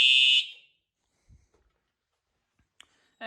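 Loud electronic fire alarm tones from a Simplex system sound in short bursts, separated by a quiet gap with a few faint clicks and thumps, then the alarm resumes.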